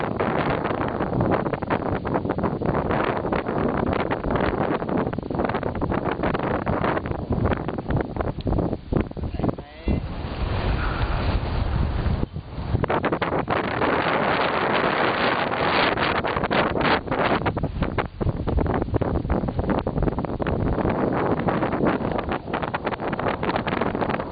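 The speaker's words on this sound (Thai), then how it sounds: "ลมแรงมาก ครับลมแรงมาก อากาศหนาวเย็น หนาวเหลือเกิน" Strong, cold wind at Lake Namtso in Tibet roars across the microphone in a constant, loud buffeting rush, with a brief lull near the middle before the gusts return at full force.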